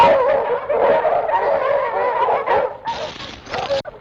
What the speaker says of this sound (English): Those are hounds. They picked up our trail.